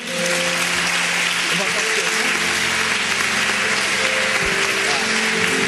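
Church congregation applauding during a service, a dense, loud, continuous patter of many hands with faint background music tones underneath.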